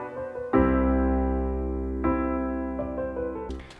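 Sustained MIDI melody chords with passing notes between them, struck at about 0.5 s and 2 s with smaller note changes near 2.8 and 3.5 s, each chord ringing on and slowly fading with no voices.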